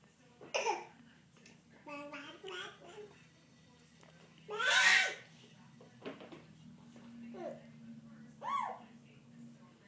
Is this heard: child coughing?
yes